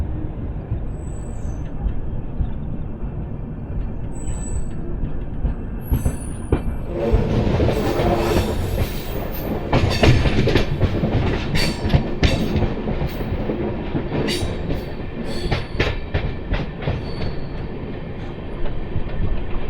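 The Palnadu Express (12747), on its first run with LHB coaches from Guntur to Vikarabad, rolls along the rails with a steady loud rumble, rhythmic wheel clatter and bursts of high squealing wheels.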